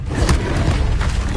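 Levioso spell cast in the Hogwarts Legacy video game: a dense low rumbling whoosh with a soft boom, sustained and loud for just over a second, with no talk.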